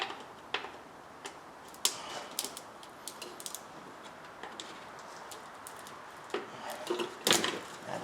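Sharp plastic clicks and small snaps from a Christmas tree trim clip being worked loose in the engine bay of a 2015 Town and Country, scattered irregularly over a quiet background.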